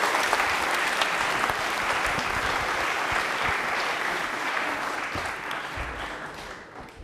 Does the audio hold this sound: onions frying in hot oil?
no